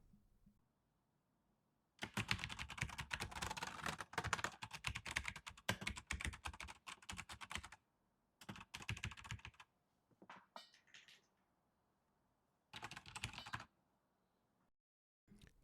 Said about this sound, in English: when typing you have a really satisfying sound, and but at the same time it's quieter than like a Razer keyboard